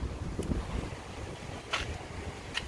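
Steady wind buffeting around a classic 21-window VW campervan convertible, a constant rushing roar with a few brief rattles and knocks on top, no voices.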